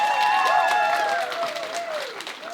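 Theatre audience at a live radio-show performance applauding, a dense steady wash of clapping with a held tonal whistle or sustained note sliding beneath it, fading slightly toward the end.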